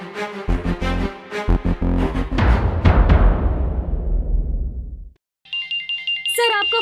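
A telephone ringtone chirps out in a repeating electronic pattern near the end, after loud dramatic music suddenly cuts off, as a call comes in from home.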